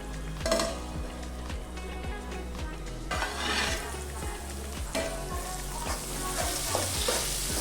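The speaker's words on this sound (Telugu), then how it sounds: "ఇప్పుడు మనము మూత పెట్టేసి ఈ టొమాటో బాగా మగ్గి నూనె బయటికి తేలేంత వరకు ఉడికించాలి." Tomato masala cooking in oil in a covered pan for chole masala, with a steady close sizzle and bubbling throughout, a few clinks of utensils scattered over it, no talking.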